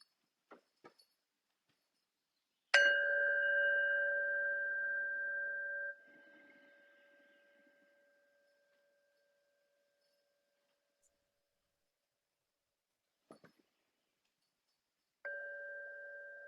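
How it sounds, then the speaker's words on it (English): A meditation bell is struck twice, each strike a clear ringing tone that sustains and slowly fades in a quiet room, with a few faint taps in between. "I'll close our practice with 2 sounds of the bell"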